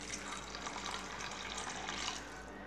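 Water pours steadily into a pan of tamarind fish curry with dried fish and mango, a continuous splashing stream close by with no talk.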